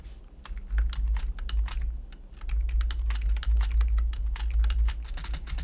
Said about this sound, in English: I got a new keyboard as well, so that's not really helping with my typing.